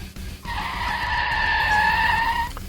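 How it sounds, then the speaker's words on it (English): Car doing a burnout in a PC car-service video game, a sustained tonal tire squeal of about two seconds over a low engine rumble. "Who's doing burnouts in my parking lot?"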